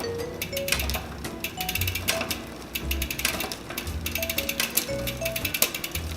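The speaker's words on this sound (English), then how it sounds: "you can hear it making that chain noise" Bicycle drivetrain with SRAM NX gears being shifted and adjusted, giving a continuous close mechanical chain clatter with rapid ticking bursts and a rattling, slightly rough running noise, no talk.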